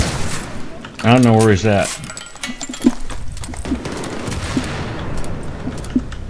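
Gunfire in Battlefield 3 on the Metro map in Conquest mode comes as scattered sharp shots and a few bursts under a player's voice, moderately loud and irregular.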